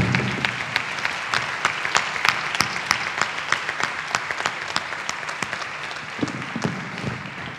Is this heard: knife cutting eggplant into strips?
no